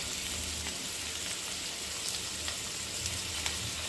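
Carrot, coriander leaves and tamarind sautéing in a pan for carrot chutney, giving a steady soft sizzle and frying crackle throughout with faint stirring clicks, no talking.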